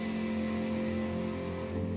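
A single electric guitar chord sustains through swell effects pedals, sounding big, dense and muddy, with a steady loud wash and no clear attack.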